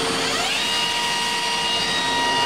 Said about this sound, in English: how about some spindle? Okay, let's go to S5000